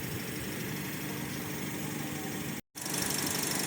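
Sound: car engine idling

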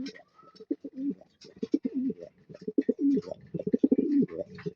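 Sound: racing pigeons cooing

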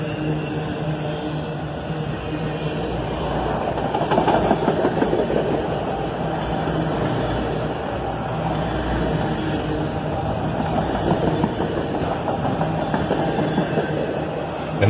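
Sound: loaded coal train slowing into a siding

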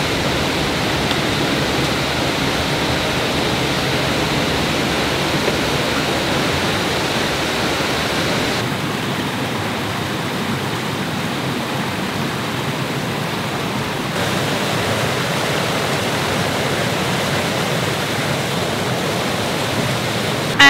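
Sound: waterfall (cascade) by a river

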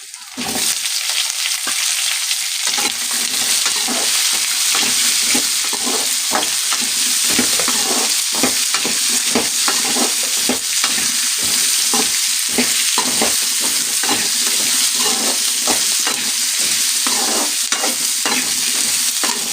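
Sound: onions sautéing in a pan for tomato chutney

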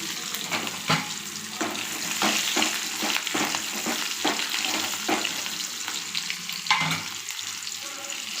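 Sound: frying garlic and small sambar onions in oil

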